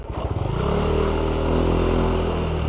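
A Yamaha Aerox v1 scooter with a stock 59 setup, straight 8 rollers, center spring and clutch spring revs up sharply, rising to a steady loud engine drone with a faint rattle, close by.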